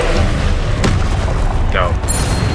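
An Expelliarmus spell cast in the Hogwarts Legacy video game, a loud booming magical blast with crackling bursts and a short whooshing streak amid dense combat noise, over a brief spell.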